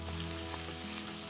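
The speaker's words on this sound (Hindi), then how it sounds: "इसमें हम प्याज ऐड कर देंगे और इसको फ्राई करेंगे हल्का सा" Onions sizzle lightly in hot oil for a vermicelli dish, a steady, close frying hiss with faint crackles and no voices.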